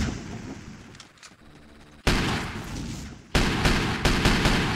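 Heavy revolver fire in the game Teleglitch: two sharp, loud broadband shots about a second apart, each followed by sustained noisy decay, after a quieter stretch of low ambient rumble.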